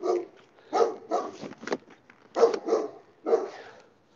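A dog barks in repeated bursts, six or so loud, fairly close barks spaced unevenly across a few seconds, with no talk over them.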